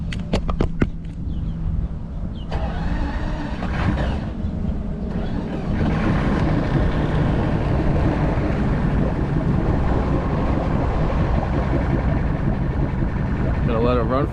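A Yamaha 250 HPDI outboard boat engine runs steadily at close range, a continuous loud drone filling the background while someone talks over it.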